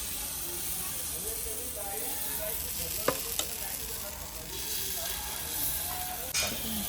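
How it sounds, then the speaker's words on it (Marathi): Appe batter sizzles steadily in an appe pan on a gas flame, a close, even frying hiss with a few sharp clicks and taps, and faint voices in the background. "हे बघा गाईस, आपले आप्पे टाकलेले आहेत काकीनी गॅसवर."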